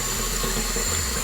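Steady rush of tap water running into a pot for spaghetti in a home kitchen, a continuous, even splashing hiss with no other sounds.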